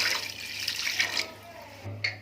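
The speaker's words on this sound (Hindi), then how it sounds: "पानी है, तकरीबन 1 मग है हमारे पास, वो इसमें डाल देते हैं" Water pours from a mug onto stuffed karela in a cooking pot, a short splashing rush that fades, followed by a brief second splash near the end.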